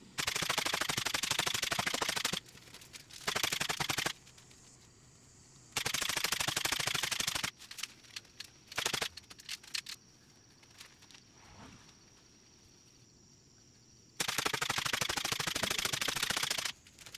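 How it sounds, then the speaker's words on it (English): An electric staple gun fastens insulation to garage wall studs in long rapid-fire bursts of loud mechanical snaps, separated by quieter handling sounds and brief pauses. "Using an electrical staple gun makes securing the insulation to the studs fast and easy."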